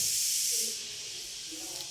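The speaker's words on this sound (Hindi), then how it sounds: "अभी आपने कुकर की सीटी सुनी होगी।" A kitchen pressure cooker lets off steam in a loud, sustained hissing whistle that fades out after a moment, leaving a quiet background with a few faint thumps.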